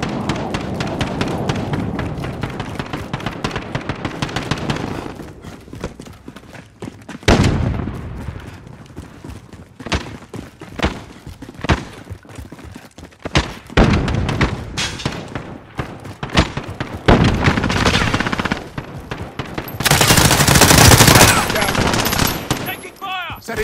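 Airstrike explosions and bursts of gunfire in Warzone, loud irregular blasts and rapid shots stacking up over about twenty seconds, with a heavy sustained roar near the end and voices talking between them.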